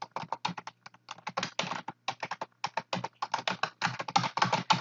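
Quick, steady keystrokes on a computer keyboard as a URL is typed, close-up, with crisp taps in fast irregular bursts and a few short pauses.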